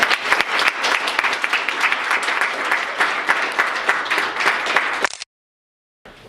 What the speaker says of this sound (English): let's clap for you guys